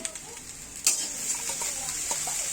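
Beaten egg poured into a hot pan for Bengali chow chow, bursting into a bright sizzle that holds steady and close for a couple of seconds, with a faint clink.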